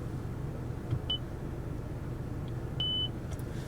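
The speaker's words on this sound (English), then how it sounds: "I just press down this controller and hold it and wait for the beep" A single thin electronic radio preset confirmation beep in a 2017 Lexus IS200t, short then held a bit longer, over the steady low rumble of the idling car interior.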